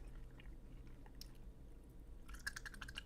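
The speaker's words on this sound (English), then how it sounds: "am I chewing some gum right now?" Gum being chewed close to the mouth gives faint, soft wet clicks and squishes at an irregular pace over a quiet background.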